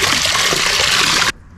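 Water gushes steadily into a basin being filled for hand washing a down jacket, a loud continuous splashing pour that stops abruptly near the end.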